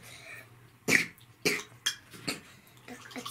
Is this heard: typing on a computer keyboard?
no